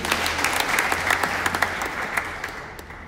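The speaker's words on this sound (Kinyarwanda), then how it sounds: "Mukomere Imana amashyi." Church congregation at an Anglican parish clapping together, a dense burst of applause that swells and then fades over about three seconds.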